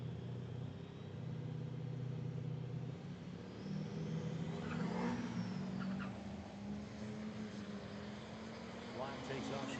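Drag race trucks launching off the starting line at an outlaw drag racing event: a distant engine roar builds and rumbles over several seconds, with a commentator talking over it.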